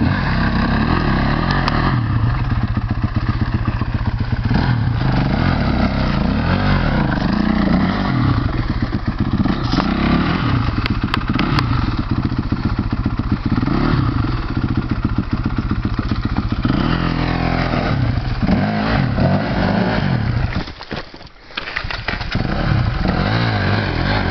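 An enduro motorcycle engine revs loudly and continuously up close, rising and falling in pitch, with a brief dip near the end.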